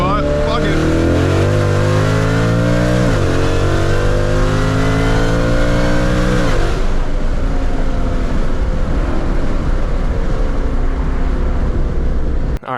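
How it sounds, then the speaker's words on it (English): A Ford Shelby engine revs hard under full-throttle acceleration, its pitch climbing through repeated rising sweeps with a shift break, then settling into a loud, rough sustained roar close to the microphone. "let's get a little pull in, see what the Shelby can do"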